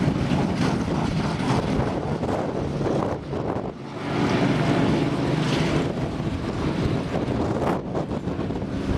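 Strong wind of about 25 miles an hour buffets the microphone on a rooftop overlooking a racetrack, a loud, continuous roaring rumble that drops briefly midway before surging back.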